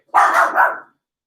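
A dog gives a sharp, close double bark, two quick loud woofs run together, then silence.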